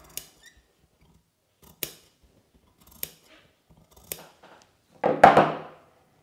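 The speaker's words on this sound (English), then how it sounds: "So I'm just gonna continue going round. Snipping in where I need to." Scissors snipping fabric while sewing a sheath dress, four crisp separate cuts about a second apart, then a longer rustling handling noise, close and quiet.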